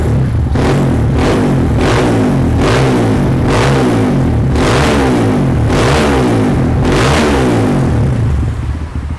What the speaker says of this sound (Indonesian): Itu dia suara knalpot perfect power yang tipenya itu Titan ya